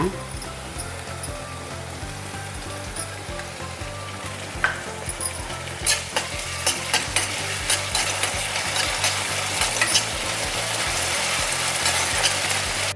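Ginger garlic paste frying in a pan during chicken cheese paratha cooking: continuous close sizzling with rhythmic stirring scrapes, the crackle growing brighter and busier over about thirteen seconds.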